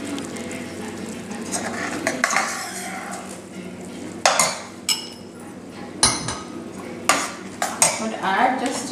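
Cashews being stirred into sugar syrup with ghee in a pan for Indian kaju barfi, a spoon repeatedly scraping and clanking against the metal pan in loud irregular knocks over a low sizzle.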